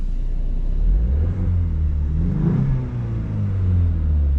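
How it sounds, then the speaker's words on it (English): Exhaust of a 2024 Ford Mustang EcoBoost Premium in quiet mode, a low steady rumble heard from inside the cabin through a cracked window, swelling briefly as the engine revs mid-clip, with no talking. "I'll crack the window, see if you guys can hear the exhaust."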